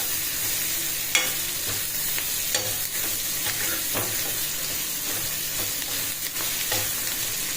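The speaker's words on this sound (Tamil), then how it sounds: "வெங்காயம் நல்லா வதங்கணுங்க." Onions and green chillies sautéing in a pan for a spicy green chilli kuzhambu, steady close sizzling with repeated scraping stirs and small clinks of the spatula against the pan.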